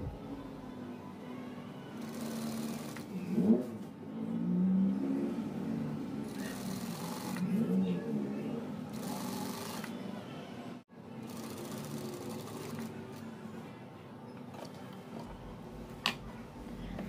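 A sewing machine stitches along the folded edge of cotton jilbab fabric, giving a steady close mechanical whir with brief changes in pace.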